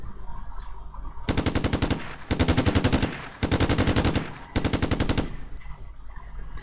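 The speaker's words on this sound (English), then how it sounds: "So if I attack with that machine gun unit" A machine gun unit attacks in the strategy game Advanced Tactics Gold: four loud, rapid bursts of automatic gunfire, each lasting about a second, separated by short pauses over a low background.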